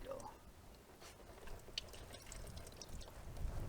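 Coolant drains from the engine of a Massey Ferguson 231 tractor, a soft, continuous pouring and trickling with faint drips, low and close.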